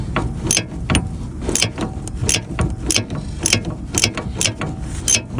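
A hand ratchet turns the sway bar link nut on a 2013 Audi Q5 with rapid bursts of close clicking, repeated stroke after stroke in a steady rhythm.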